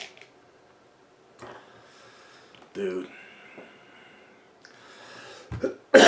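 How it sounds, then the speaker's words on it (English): One sharp cough bursts out of a quiet room among soft breaths and small throat noises. A brief hoarse cough-like burst follows, and another loud burst ends the clip. "That was a COVID cough."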